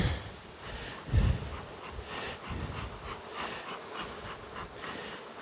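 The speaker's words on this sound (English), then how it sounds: "There's so many bees." A dense swarm of honey bees from a highly populous hive opened in late season hums and buzzes continuously, close and fairly loud, with a brief low thump near the start.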